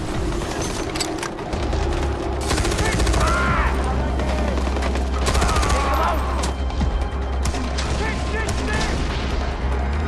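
Mounted guns firing in Far Cry 4's Valley of the Yetis, a loud, sustained burst of rapid gunfire with heavy booms and clattering volleys throughout, alongside faint mechanical background noise.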